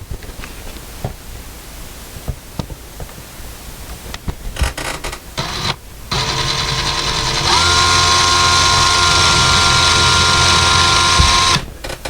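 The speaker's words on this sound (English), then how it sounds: "Nice and slow, we're going to drill" A power drill bores slowly into drywall to set anchors for a curtain rod, starting after some faint handling noises, then whirring loudly and steadily for several seconds before stopping.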